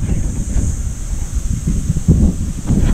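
Strong wind gusting on a mountainside, a steady low roar that swells and buffets the microphone in bursts, loud and continuous with no voices.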